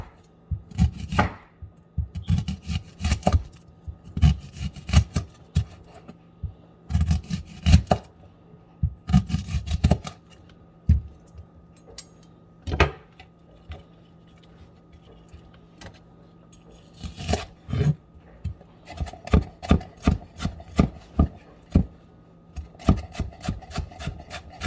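A knife finely chops onion on a cutting board for red pork pozole. Bursts of quick, crisp taps come close up, separated by short pauses and one longer break, with no talking.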